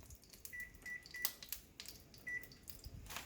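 Oven timer on a kitchen oven being set, giving a few short, quiet electronic beeps spaced apart, with faint clicks and handling noise in between.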